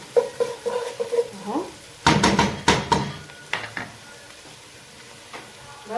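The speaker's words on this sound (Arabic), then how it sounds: "ببدأ انزل عليه الطماطم، بقلب فيه لحد ما يوصل معايا للون الشفاف اللي انا عايزاه" Tomatoes, onions and peppers sizzle in a pan as they are stirred, with a crab dish in progress; a hissing fry runs under scraping and clattering utensil strokes, with a loud burst of stirring midway and a brief voice.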